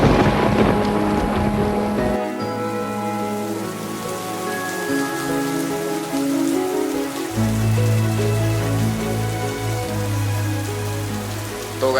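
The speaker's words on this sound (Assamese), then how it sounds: "লাহেকৈ এতিয়া বৰষুণ দি আছে" Rain falling outdoors near open fields makes a continuous patter and hiss, heard alongside steady humming tones that shift in pitch, with no one speaking.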